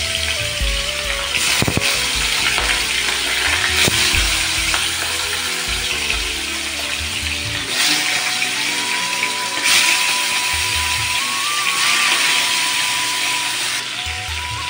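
Fish pieces fry in hot oil in a wok, making a dense, continuous sizzle and crackle that stays loud and close. Occasional clatter from handling the pan and the fish breaks through, and no one speaks.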